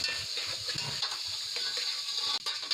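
Onions frying in a pan for aloo kurma, a continuous bright sizzle with occasional soft stirring scrapes, close and steady without voices.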